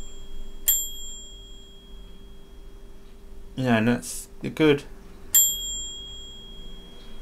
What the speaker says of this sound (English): particularly sweet bell on this one. Quite a large bell, actually.